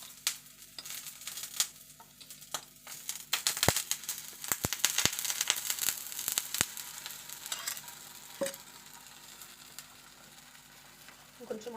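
Egg omelette frying in oil in a pan, soft sizzling under sharp scraping and stirring clicks of a utensil, close and fairly quiet.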